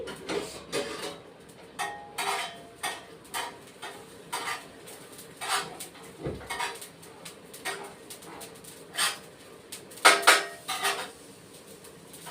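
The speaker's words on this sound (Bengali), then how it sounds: "এটা একটু ভেজে নিই তাওয়া বসিয়ে দিয়েছি" A metal utensil repeatedly scrapes and clinks against a hot tawa griddle, stirring spices as they roast in short irregular strokes.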